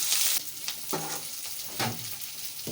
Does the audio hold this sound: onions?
yes